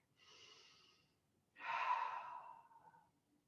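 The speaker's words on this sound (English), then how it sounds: "Excuse my yawns." A person yawns twice during a quiet back-stretching exercise session: a soft first exhalation, then a louder, longer breathy yawn that trails off, close and intimate.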